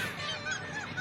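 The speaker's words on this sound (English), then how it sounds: "This is seabird and its name is seagull." A seagull out by the sea gives a short, honking call, fairly faint and heard alone without any voices.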